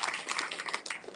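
An audience claps together at a distinguished lecture, a dense burst of steady applause heard close and fairly loud throughout.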